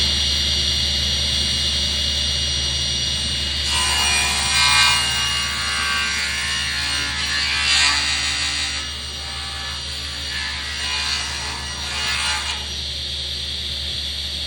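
A saw cutting through a wooden board while building a casket, starting after a few seconds of steady background machine hum and continuing as rhythmic rasping strokes over it, loud and close.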